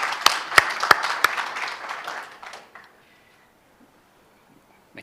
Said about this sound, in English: I think we should all give yourselves a round of applause for that